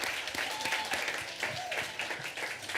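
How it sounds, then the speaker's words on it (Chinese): Applause in a church congregation during a Christmas joint Sunday worship service, a steady, dense wash of clapping filling the whole moment, with faint voices mixed in. "热烈掌声！"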